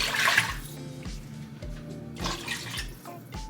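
Broth and water pour into a cooking pot for French onion pasta, a steady close splashing and gurgling stream that swells and eases over a few seconds, heard alone without talk.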